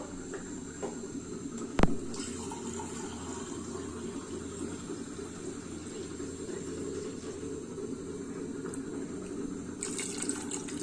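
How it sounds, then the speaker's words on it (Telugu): A glass of water goes into a cooking pot of lentil dal, making a steady, close, faucet-like rush of liquid with a sharp clink near the start. "గ్లాస్ వాటర్ వేస్తాను."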